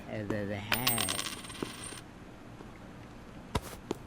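Coins clink and jingle as payment is collected in the Internet Cafe Simulator 2 video game, a bright metallic chime followed by a few faint scattered clicks, with no voices.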